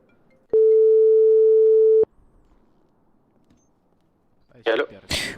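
A single long electronic tone plays during a phone call to another doctor in a video game. It is a steady beep lasting about a second and a half, followed by quiet, and then a voice speaks briefly.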